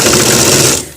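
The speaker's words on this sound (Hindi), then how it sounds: "इसके ऊपर इस तरीके से सिलाई लगाना है" A sewing machine runs steadily, stitching a grip belt onto a pair of pants in a continuous close whir that cuts off near the end.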